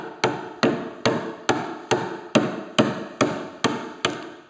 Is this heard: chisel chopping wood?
yes